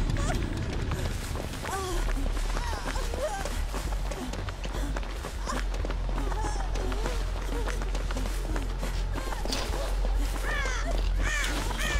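Crows in Dead by Daylight burst into harsh caws over and over, mixed with running footsteps and other game sounds, while players talk over them.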